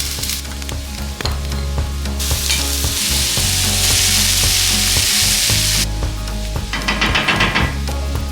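Vegetables fry in lard and butter in a hot skillet on a wood-fired cabin stove, giving a loud, continuous sizzle that swells in the middle, with scraping stirs and clatters throughout.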